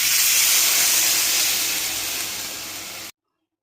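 Water poured into a hot pan of frying fish, potato and pointed gourd gives a loud, broad hiss that slowly fades over about three seconds before cutting off abruptly.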